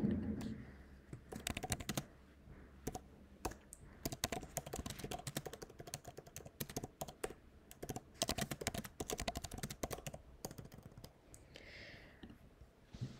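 Fingers type on a computer keyboard in a quick, uneven run of close, crisp key clicks that continues almost throughout, with only a few short pauses.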